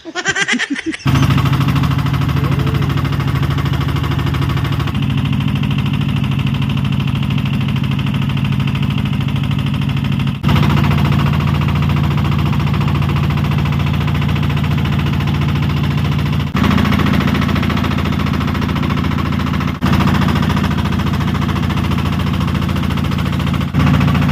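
A boat engine drones steadily during a ride on the Magat Dam reservoir in Ramon, Isabela, a loud, constant mid-pitched hum with rattling vibration that runs unbroken for over twenty seconds with no voices over it.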